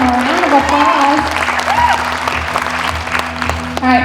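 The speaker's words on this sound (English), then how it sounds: "So let's give him a round of applause." Audience applause for a contestant at a Mr. CCH pageant Q&A, steady loud clapping throughout with a continuous low hum and some voices mixed in.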